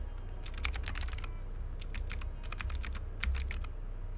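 Touch typing on a computer keyboard, with quick clusters of light key clicks coming in bursts and short pauses, close and steady over a low background hum.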